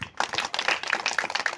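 Children clap together after a magic trick, a quick, dense patter of handclaps close by that lasts the whole moment, with no voices over it.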